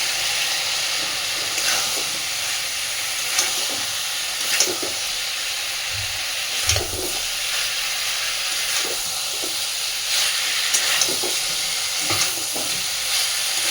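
Potato and cauliflower pieces frying with spices in a pan, a continuous bright sizzle and hiss with occasional stirring scrapes and soft clinks recurring every second or two.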